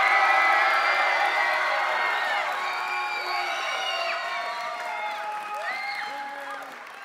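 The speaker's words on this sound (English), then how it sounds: "you can hear everybody is cheering for you" A large crowd at an esports grand final cheers, whoops and shouts continuously, loud and sustained at first and easing slightly, with scattered high yells and no speech.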